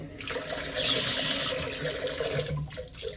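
Water runs from a sink faucet to flush debris out of the line, a steady close hiss and splash into the basin that briefly surges louder before settling and tapering toward the end.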